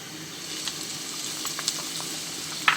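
Onions with ginger-garlic paste fry in a pan for a home-style Pakistani egg and potato curry, giving a steady, close sizzle with small crackles and pops throughout.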